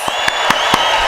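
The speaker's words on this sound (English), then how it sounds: "It's nice when there are other people to do the clapping for me." A few sharp claps ring out in a radio studio during a guest takeover, four distinct bursts spaced roughly evenly over a steady background hum.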